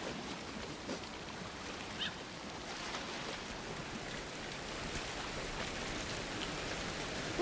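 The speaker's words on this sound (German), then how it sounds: "es fängt an zu regnen" Steady rain falling in the video game Ancestors: The Humankind Odyssey, a continuous soft hiss of drops with a few faint patters, moderately quiet and unbroken, with no voices.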